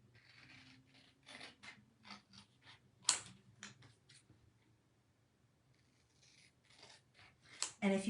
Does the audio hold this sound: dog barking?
no